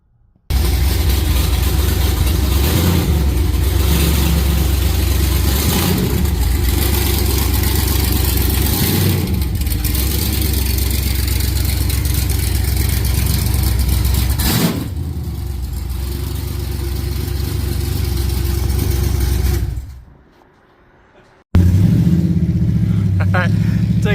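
An LS-swapped station wagon drives with its V8 engine running loud and steady, easing off briefly before cutting out, then rumbling back in.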